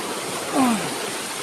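A river runs steadily with a broad, even rush of water, heard moments before a sudden flood surges down a river where people wash laundry; a short rising-and-falling call cuts in briefly near the middle.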